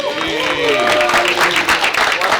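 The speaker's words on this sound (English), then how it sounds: "everyone give the band a round of applause?" Crowd applause for a band at a Black History Month arts celebration in an office building, dense clapping heard alongside tonal voices or instruments that ring over it at the start.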